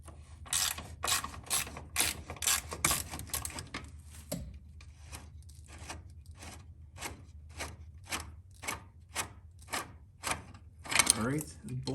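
A ratchet working bolts off the steering box of a 1947 Willys CJ2A Jeep, an evenly paced series of sharp metallic clicks close by, around twenty strokes with brief pauses, with a faint low voice in the background.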